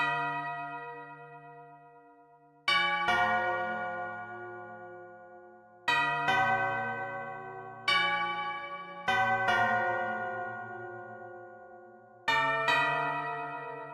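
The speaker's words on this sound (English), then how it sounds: "Oh, we're bringing back the bells, huh?" Bell melody in the Incredibox game: sustained ringing bell tones struck in a slow sequence, each strike decaying before the next, clear and prominent with no talk.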